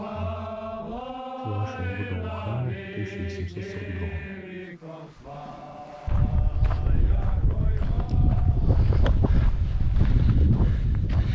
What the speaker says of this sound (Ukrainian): Я не знаю, як вітер, напевно, що сильно задуває.